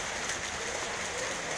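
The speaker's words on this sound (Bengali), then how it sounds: "ই আল্লাহ কি বৃষ্টি!" Steady, dense hiss of heavy rain pouring down outdoors, with a parked motorbike getting soaked, continuous and fairly loud with no pauses or speech.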